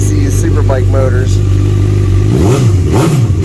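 A 2013 Honda CB1000R with a 1000cc engine and aftermarket exhaust pipe rumbles loudly at close range, swelling through two quick rev blips near the end, with someone talking over the steady engine drone.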